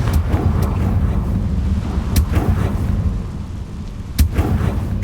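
A Confringo fire spell going off in Hogwarts Legacy, with sharp blasts at intervals over a dense, rumbling background of game sound and no voices.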